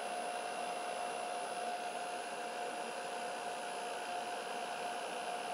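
WVO Designs centrifuge filtering waste vegetable oil, a steady continuous whirring hum with a constant high whine, unchanging and without voices.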